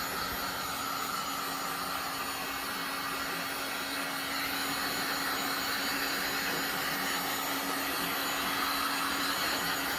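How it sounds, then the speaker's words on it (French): A heat gun warms the surface of a Can-Am Ryker's tank before adhesive goes on, a steady close whooshing blow with a constant hum and no talk. "là je vais prendre un heat gun"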